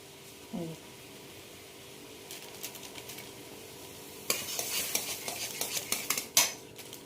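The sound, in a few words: stirring rice flour into boiling water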